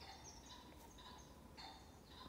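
Chickens call faintly in the distance outdoors in Sweden, a few quiet, scattered clucks and crows over a low background hiss.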